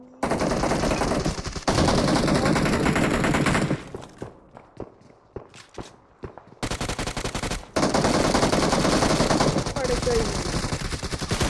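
Video-game gunfire: bursts of rapid automatic shots stop and start, with a quieter stretch of scattered single shots and footsteps in the middle, and a voice speaks briefly over the action.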